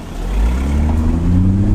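A BMW M140i engine and exhaust drone steadily while driving, a loud, close, low rumble that holds an even note with no breaks.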